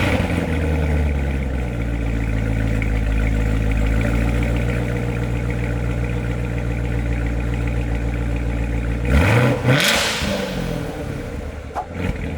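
Chevrolet Corvette Z06 engine idles with a steady, loud drone, then a single quick blip rev to about 3,000 RPM rises sharply and falls back near the end.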